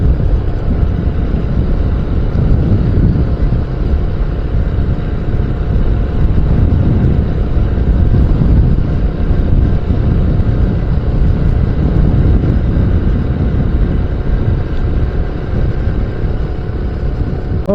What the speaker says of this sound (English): But wind is picking up, I can already feel it.